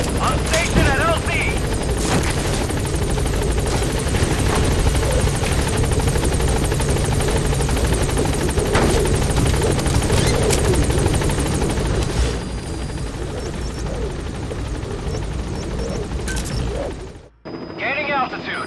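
Support helicopter arriving in Metal Gear Solid V: The Phantom Pain on PS5, its rotor roar loud and continuous throughout, with scattered gunfire bursts and game radio voices, cutting off abruptly near the end.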